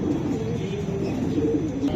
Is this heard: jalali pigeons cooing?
yes